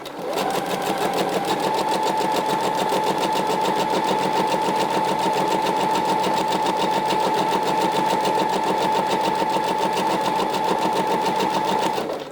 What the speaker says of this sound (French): je vais piquer un fil donc tout le long du bord arrondi, un fil classique à 1 cm du bord